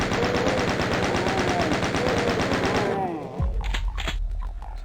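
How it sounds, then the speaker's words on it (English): Chaingunners in Doom trade rapid, continuous machine-gun fire for about three seconds, loud and steady, before it cuts off into scattered game sounds. "Versus chain gunners, they're kind of taking each other out."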